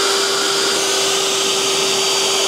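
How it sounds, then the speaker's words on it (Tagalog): An air blower dries a freshly washed and rinsed car tire, giving a loud, steady rushing roar with a constant high whine throughout and no pauses. "So ako initially gumagamit ako ng blower talaga."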